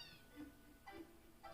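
A cat meowing in the Final Fantasy 7 video game, three short faint meows spaced evenly, quiet under soft background tones with no speech.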